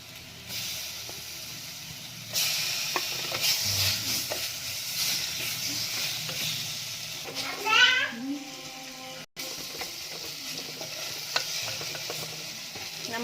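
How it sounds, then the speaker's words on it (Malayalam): Tomato goes into sizzling masala for a homestyle mushroom curry. Hissing frying and repeated stirring clatter follow close up, with a voice talking over the cooking. "ഇനി നമുക്കിതിലേക്ക് ഒരു ചെറിയ തക്കാളി ചേർത്ത് കൊടുക്കാം."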